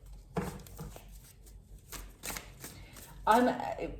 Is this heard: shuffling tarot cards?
yes